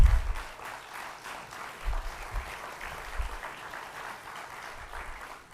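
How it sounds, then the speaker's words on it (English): A congregation claps at a church annual meeting in honor of the long-serving treasurer, with moderate, steady applause filling the hall and occasional low thumps underneath. "Probably needs a lot more applause than that"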